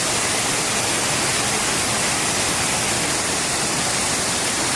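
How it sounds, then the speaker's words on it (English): A waterfall in a Las Vegas courtyard pours with a steady, dense rushing hiss that fills the space evenly and stays constant, with no voices or other sounds rising above it. "We came outside to the courtyard where they have this really cool waterfall"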